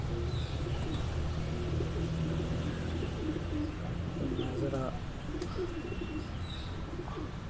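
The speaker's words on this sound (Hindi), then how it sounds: "अच्छा ये मिस्सा कबूतर है, नर है।" A male Missa pigeon coos at a highflyer pigeon loft. The coos are soft and repeated, set against a steady, noisy background with faint chirps from other birds.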